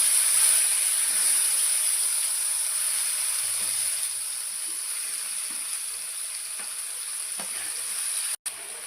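Mustard paste sizzling in hot mustard oil in a pan with dried chillies and black cumin, a steady close frying hiss that softens slightly partway through, with no talk.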